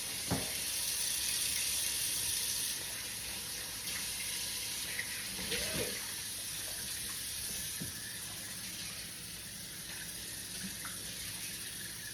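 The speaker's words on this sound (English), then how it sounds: "Let's run some dishwater" Kitchen tap running steadily into a sink to fill dishwater, a constant soft rushing with a few faint clinks and knocks in the background and no talk.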